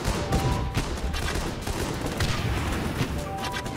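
Dense gunfire crackles from soldiers in the war strategy video game Guns Up!, a loud, continuous fusillade of overlapping shots and bursts with no pauses.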